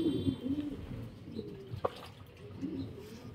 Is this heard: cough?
no